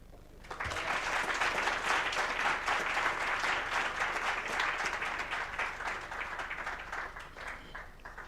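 A resounding round of audience applause at an Africa Month leadership and sustainability dialogue, starting abruptly and holding as sustained, dense crowd clapping before easing slightly near the end.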